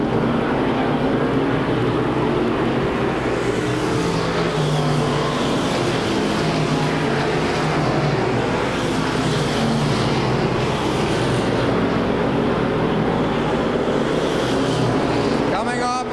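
Modified race cars circling Claremont Speedway in a 1996 twin-50 event, a steady dense engine roar filling the whole stretch without letup, with an announcer talking over it.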